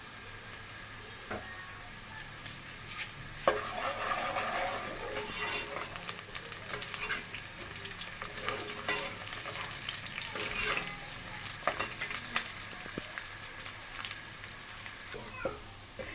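Onions brown in a pan under a continuous close sizzle, with scraping stirs and light clatter of a utensil breaking through now and then.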